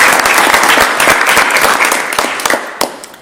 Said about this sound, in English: A round of applause for the graduates that graduated over our summer.